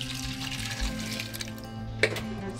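Water poured into a pot for oatmeal in a luxury mountain yurt kitchen, a steady close trickling flow with a brief clink near the end.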